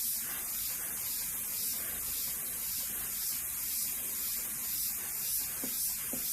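An airbrush sprays paint onto a monotone portrait, producing a steady close hiss with a gentle pulsing rhythm as the strokes crisscross back and forth.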